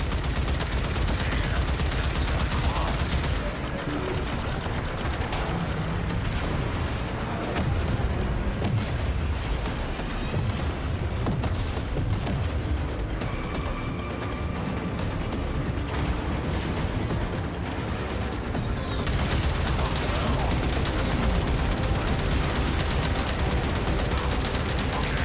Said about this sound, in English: Gunnery crews, launch torpedoes.